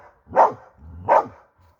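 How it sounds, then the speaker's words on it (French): A dog barks twice at close range, two loud separate woofs about three quarters of a second apart, with no talk. "Les chiens qui aboient"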